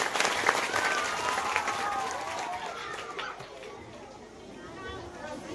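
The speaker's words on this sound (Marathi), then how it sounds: "जोरदार टाळ्या झाल्या पाहिजेत" Applause from the audience at a retirement farewell ceremony for a school superintendent, a steady wash of clapping mixed with crowd chatter, moderately faint and fading slightly toward the end.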